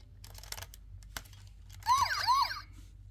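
A Transformers Animated toy plays an electronic siren, a short warbling wail that follows a few light clicks and taps and sounds close and fairly faint.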